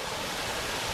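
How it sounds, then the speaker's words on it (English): Steady broadband rush of a waterfall on a hillside walk in the Brecon Beacons, continuous and fairly close with no voices over it. "Nice waterfall there"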